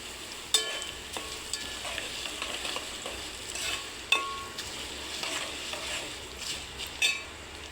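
Mustard seeds and peanuts sizzle in hot oil for tamarind rice, a continuous close crackle with occasional sharp pops and spoon clicks scattered through, and no one speaking.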